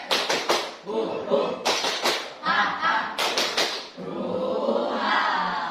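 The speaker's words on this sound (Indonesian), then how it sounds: "Kita tepuk semangat dulu" A classroom of students claps a rhythmic spirit clap in bursts of quick patterned beats, with pauses between phrases and voices chanting along.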